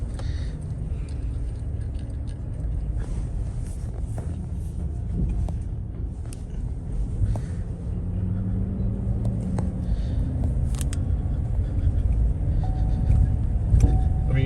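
A 2021 Chevy Silverado 3500 HD pickup towing a dump trailer rolls along at steady speed, giving a continuous low engine and road rumble with faint cabin rattles and clinks throughout.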